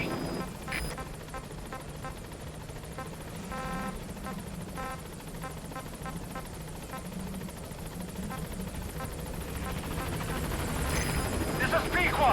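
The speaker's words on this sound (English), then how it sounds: "Значит, вертолет." A helicopter in Metal Gear Solid V: The Phantom Pain comes in to the landing zone, its rotor thrum and engine drone growing louder as it nears, under in-game radio talk and game sounds.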